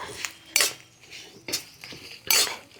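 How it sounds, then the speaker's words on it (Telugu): Seeds fried in two spoons of oil for a spicy karappodi powder are stirred in a pan, heard as a few sharp metal spoon knocks and scrapes against the vessel, separated by quiet gaps. "ఈ ఆయిల్ పోసుకున్న తర్వాత విత్తనాలు వేయాలండి. విత్తనాలు కూడా వేగే వరకు వేయించుకుందాం"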